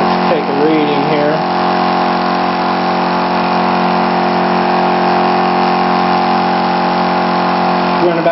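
An SSG pulse motor with an 8-inch wheel, running on a 24-volt circuit at about 2600 RPM, gives a steady, loud whirring hum with an even electrical buzz, and a voice is briefly heard over it.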